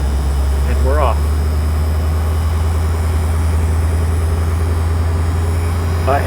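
A 1978 Bluebird Wanderlodge FC31 motorhome pulling away, its heavy engine droning low and steady while a voice speaks briefly over it.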